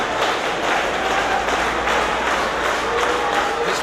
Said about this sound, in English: This crowd applauding JJ for his amazing effort.